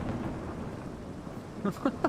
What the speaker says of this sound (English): I forgot I have Immersive Thunder in it.